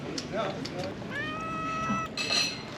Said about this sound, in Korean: 도둑 고양이 도둑 고양이.